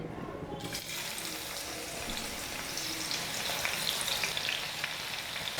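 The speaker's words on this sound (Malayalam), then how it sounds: "എണ്ണ ചൂടായിട്ടുണ്ട്. നമുക്ക് ഓണിയൻസ് ഒന്ന് ഫ്രൈ ചെയ്ത് മാറ്റാം." Onions hit hot oil for a Malabar chicken biryani and burst into loud, continuous sizzling that stays bright and steady. Water-like hiss fills the crackle, and a clatter comes right at the end.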